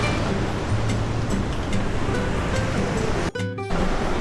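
Ocean waves roll and crash at Torohudan beach, a steady loud surf roar that fills the scene, then cuts out briefly near the end before resuming.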